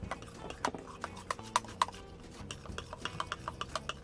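Flour and milk being stirred in a cup with a utensil, a series of light, sharp clinks and taps repeating unevenly over a few seconds, close up with no talking.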